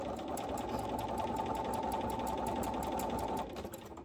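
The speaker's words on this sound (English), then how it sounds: "I have 2 millimeter stitch length, single hole plate, needle stop down." A sewing machine set to a 2 mm stitch length with a single hole plate stitches fabric in a steady, fast, close whir that runs for several seconds before slowing to a stop.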